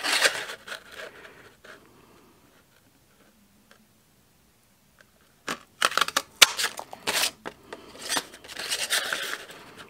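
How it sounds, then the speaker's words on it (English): A paper punch cuts embossed cardstock shapes, sharp crunching clicks and rustling paper in irregular bursts, faint at first, then a near-silent pause, then louder and denser handling. "let's punch these out"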